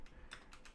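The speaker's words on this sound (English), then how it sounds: "Hold on, I'm typing this out." Computer keyboard typing during a tech livestream, a few quick clustered keystroke bursts, fairly faint and close, with no talking.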